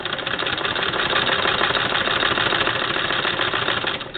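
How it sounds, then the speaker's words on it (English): A Singer 99 sewing machine turned by a hand crank, sewing with a steady rapid mechanical chatter and hum that runs evenly throughout, close and alone without talk. "all of you wonderful people get to watch me sew with a 99 for a few minutes"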